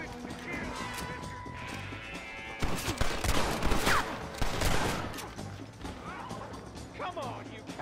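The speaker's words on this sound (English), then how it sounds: "I'm gonna reload a little bit more." A gun being reloaded in a video game gives mechanical clicks and ratcheting, mixed with bursts of gunfire and crashing game sounds, with a voice talking at times.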